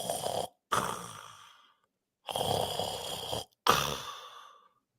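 A voice imitates the mechanical respirator breathing of Darth Vader from Star Wars: two slow, close hissing inhale-exhale cycles with short gaps between them, heard alone.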